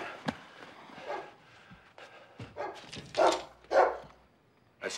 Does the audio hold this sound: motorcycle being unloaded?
no